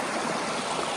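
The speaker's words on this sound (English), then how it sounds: "The stream's right there." A rain-swollen mountain stream rushes past close by, a steady broadband wash of flowing water with no pauses.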